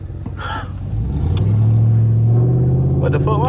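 A Dodge Charger R/T fitted with longtube headers and a muffler delete revs hard at night, its deep engine roar swelling and holding loud from the middle onward, with people talking over it.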